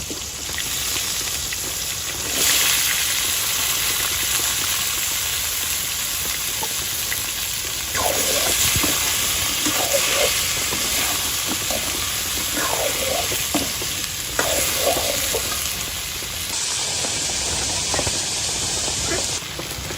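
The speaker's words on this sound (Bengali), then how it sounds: "ওই তেলে এখন হচ্ছে যে দিয়ে দিচ্ছি পটল আর আলুগুলো" Pointed gourd and potato pieces frying in oil left over from frying fish, a continuous loud hiss in a village kitchen, with soft scraping stirs recurring throughout.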